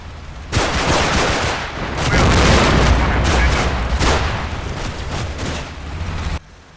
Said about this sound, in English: They also get caught in a crossfire, with bullets zooming in from every direction.